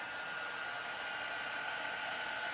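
Heat embossing tool melting embossing powder for a stamped card, a steady airy blower roar held evenly at close range with no talk.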